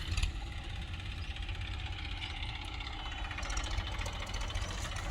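A tractor engine rumbles steadily at close range during a turmeric harvest, a low droning hum with no pauses.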